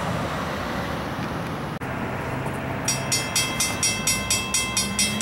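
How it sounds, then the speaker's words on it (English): Trains roll along a Norfolk Southern railway line: a continuous broadband rumble of rail traffic, then rhythmic clacking from wheels crossing rail joints in the final seconds, fairly close and loud. "Got trains lined up to go west in both directions."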